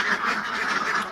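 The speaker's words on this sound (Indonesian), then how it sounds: "Ini bebek isi 25 ekor, Mas Bro, per koloni." Ducks kept in laying cages, about 25 birds to a colony, quack together in a loud, continuous chorus of overlapping nasal calls close by.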